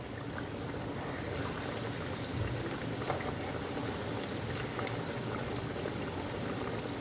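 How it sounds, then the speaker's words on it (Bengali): Breadcrumb-coated fish frying in medium-hot oil gives a steady, dense sizzle and crackle that holds at an even level throughout, with no talking. "এবার আমি এগুলোকে আস্তে আস্তে ভেজে নেব। তেলটা হয়ে গেছে, মাঝারি আছে"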